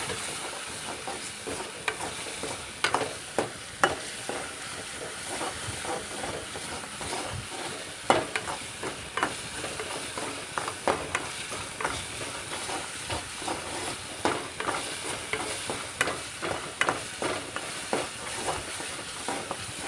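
Spices being sautéed and stirred in a pan for a Malabar spinach and mustard-paste curry give a steady close sizzle, broken by frequent sharp scrapes and clicks of the spatula, with no talking.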